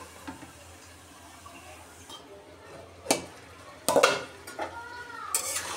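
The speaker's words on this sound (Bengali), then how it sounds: "এখন আবার একটু নেড়ে চেড়ে দেই।" A utensil scrapes and clinks against a pan while flat beans fry, with scattered soft taps and a few louder knocks over a quiet kitchen background.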